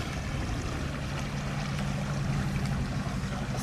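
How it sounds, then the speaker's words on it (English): Boat cruising along a Dutch village canal in Broek op Langedijk, a low steady engine drone with faint water wash, continuous and moderately quiet. "I love the sound of the boat."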